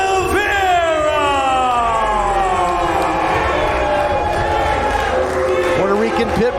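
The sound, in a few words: wrestling crowd cheering for EJ Sparks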